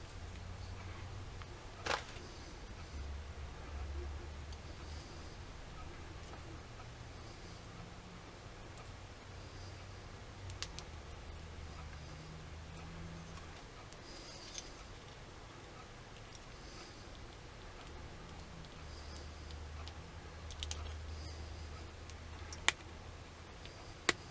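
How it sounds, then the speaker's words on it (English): A knife cuts back the jacket on electrical wires during a tankless water heater installation, with scattered faint scraping and small ticks and clicks over a low hum. "I'm going to cut back a little bit of the jacket on these wires"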